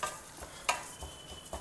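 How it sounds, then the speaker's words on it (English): Red poha fries in ghee in a pan, a soft continuous sizzle broken by a few quick scraping stirs of a spoon, close and fairly quiet. "See, the red poha has been fried very well in the ghee."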